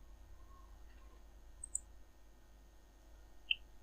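Computer mouse clicking during a software installation, a few faint, sharp isolated clicks over a quiet room hum.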